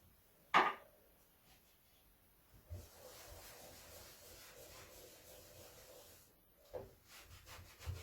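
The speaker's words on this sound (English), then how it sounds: "I'm just getting that clear wax there and I'm buffing it" Annie Sloan clear wax buffed by hand onto painted furniture over white wax, heard as soft, steady rubbing and brushing strokes, faint and close, with a sharp knock near the start and another later.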